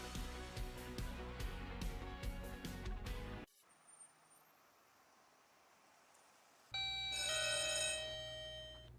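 Electronic telephone ring in a broadband phone-service advertisement, bright ringing tones bursting in loudly after a stretch of music and a quieter pause.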